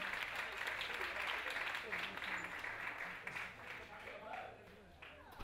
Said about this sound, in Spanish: Por favor, un aplauso muy fuerte.